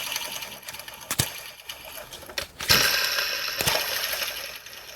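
Worn idler pulleys on a 23-year-old BMW E46 engine with about 117,000 miles make a running mechanical whir with sharp clicks and ratcheting knocks, recorded up close.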